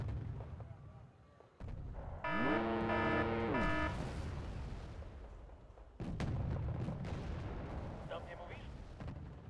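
Artillery booms and battlefield noise in the Cold War strategy game Wargame: Red Dragon, heavy low rumbles and a whining, descending tone over continuous rumble, with a voice talking over it.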